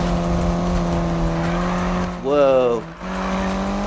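A race car in Need for Speed slides with a tire squeal cutting in over steady engine drone and nitrous-fuelled racing, the squeal rising briefly and loudly mid-clip while a voice exclaims.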